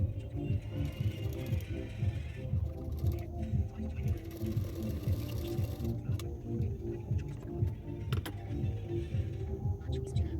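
Sewing machine running steadily as blouse pieces are stitched, a rapid, even mechanical whir and clatter that continues throughout, close and moderately quiet.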